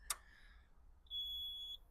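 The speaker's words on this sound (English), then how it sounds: "You hear it beeping, that's your right hand turn signal" A Ford Model A's right turn signal gives a single clear, high electronic beep lasting under a second, preceded by a short sharp click in otherwise quiet surroundings.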